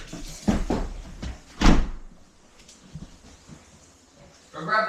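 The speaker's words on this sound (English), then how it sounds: "Close the door." A door swung shut in a home near a sink, giving a couple of close thuds with a sharper bang around the middle and quieter knocks after, while people talk nearby.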